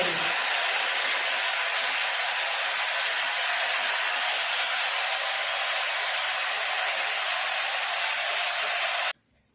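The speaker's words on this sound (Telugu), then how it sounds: "సో ఇప్పుడైతే మనం ఫస్ట్ హెయిర్ డ్రైయర్ యూజ్ చేద్దాం." A handheld hair dryer blows hot air on hair before it is curled with a straightener. It is a steady, close, loud whooshing roar that holds for about nine seconds and then cuts off abruptly.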